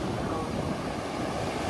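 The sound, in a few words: ocean waves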